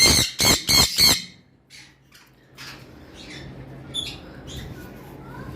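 A conure parrot lets out four sharp, loud squawks in quick succession, then quieter scattered calls and rustling follow nearby.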